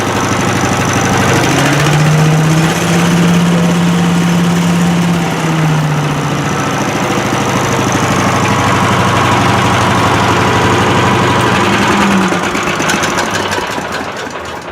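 Small engine on a DR PRO XL leaf and yard vacuum, started with starting fluid, running loud and close at low throttle with a steady rough drone and slight pitch wavering throughout.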